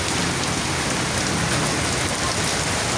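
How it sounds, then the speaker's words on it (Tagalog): Heavy rain pours down in a dense, constant roar of droplets hitting surfaces, close and loud with no voices. "Ngayon po ang buhos ng malakas na ulan"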